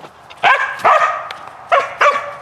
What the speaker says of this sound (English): Throw a frisbee for the dog.